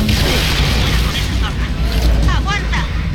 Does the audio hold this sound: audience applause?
no